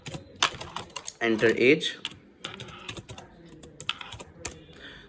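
Keys clicking on a computer keyboard while Python code is typed, quick uneven taps spread throughout, close to the microphone, under someone speaking Hindi.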